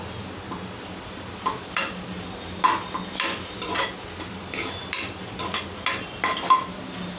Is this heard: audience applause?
no